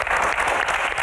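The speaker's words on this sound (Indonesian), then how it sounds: "Tepuk tangan untuk Q&A malam ini." Steady applause from a studio audience at the close of a Q&A talk show, dense and continuous clapping throughout without pause.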